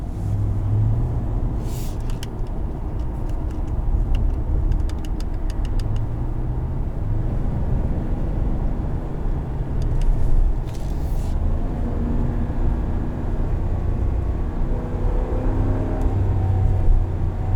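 A 2020 Ram 1500 Rebel pickup truck engine runs steadily with a deep, continuous rumble, rising slightly at moments, with no talking.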